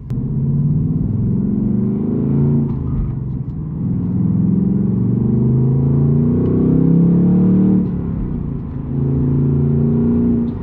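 A Ford Mustang Dark Horse driven in track mode: a loud, continuous engine drone heard from inside the car, rising and easing slightly with throttle, with a brief dip near the middle.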